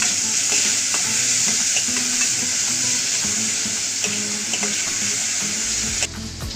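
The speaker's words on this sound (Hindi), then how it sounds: "प्याज भी डाल देंगे और बहुत अच्छे से फ्राई कर लेंगे।" Onions with garlic and ginger frying in a pan for misal make a loud, continuous close sizzle with light stirring scrapes and a few clinks, ending abruptly near the end.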